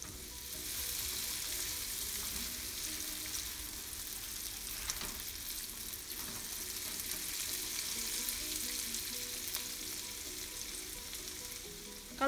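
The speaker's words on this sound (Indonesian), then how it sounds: "Kalau sudah panas, masukkan setengah bawang bombay, setengahnya lagi nanti belakangan. Ditumis sampai benar-benar layu." Half an onion sautéing in a hot pan for beef teriyaki, a steady dense sizzle that holds evenly throughout with only faint stirring touches.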